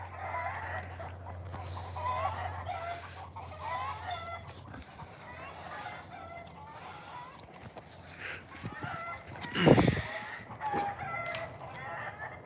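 Chickens cluck and crow around a yard on a cold day. The calls are brief and scattered over a low background hum, with a louder burst partway through.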